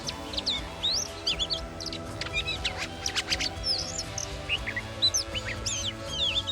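Many small birds chirp and tweet in quick, overlapping bursts against a low steady background hum.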